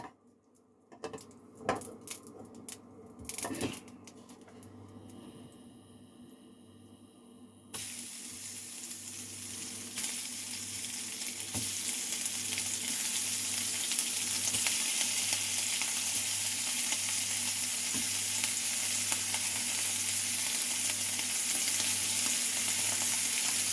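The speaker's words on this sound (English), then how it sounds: "we're going to try to sear these pieces of beef" Pieces of beef searing in butter in a hot pan give a loud, continuous, steady sizzle. Scattered clatter and a tap-like hiss come first, then the frying takes over and holds for the rest.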